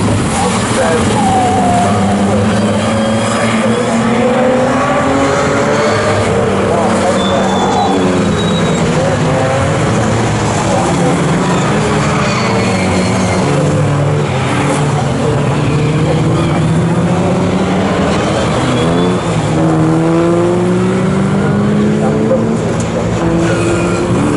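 Pre-1963 race cars, including a Jaguar E-Type, racing at Snetterton circuit; loud engines rise and fall continuously as cars pass, under steady commentary.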